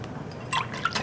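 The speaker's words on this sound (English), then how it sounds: "I'm going to add 1 cup of whole milk" One cup of whole milk pours into a bowl of beaten egg yolks with a soft, close liquid splash and trickle, brief and quiet with no talking.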